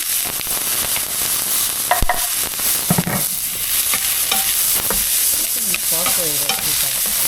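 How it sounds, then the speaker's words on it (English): Onion sizzles in olive oil while it is stirred, giving a bright, continuous crackle close by. Irregular utensil scrapes and knocks against the pan break through the hiss. "Add the onion."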